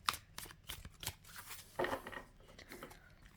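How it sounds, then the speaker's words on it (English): Tarot cards are shuffled by hand, giving a series of quick papery riffles and flicks, close up and uneven, with one louder burst midway. "just give them a slightly better shuffle"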